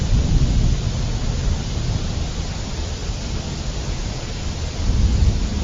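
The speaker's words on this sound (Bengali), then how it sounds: "এই রে জোরে বৃষ্টি শুরু হয়ে গেল" Heavy rain pours in a Bangla cartoon scene, a dense loud steady roar that swells slightly at the start and end, like a thunderstorm downpour, with no talk.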